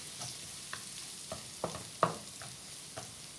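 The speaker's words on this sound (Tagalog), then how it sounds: "stir fry a bit. Let make brownish." Pork and beef with minced garlic stir-fried in a pan for menudo, a soft steady sizzle broken by a few scraping stirs, the loudest near the middle, with no talking.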